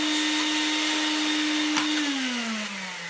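A restored 1990 Vax 121 3-in-1 vacuum cleaner runs with its head attached, giving a loud, steady motor whine close by that drops slightly in pitch toward the end.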